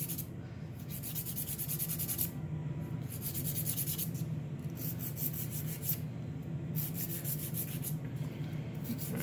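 A file rubs back and forth across gel nail extensions in quick, even strokes, a close, continuous dry rasping that keeps a steady rhythm throughout.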